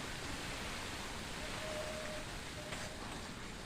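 A paste of ginger, green chilli, tomato, onion and garlic sizzles steadily in hot oil, a dense, even hiss that stays at the same level throughout, with no voices.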